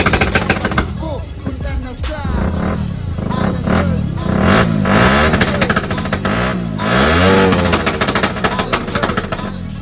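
A modified Raider 150 motorcycle with a rapid backfire setup and dual exhausts revs hard, throwing out dense machine-gun-like crackling pops over rising and falling engine pitch, loud and close.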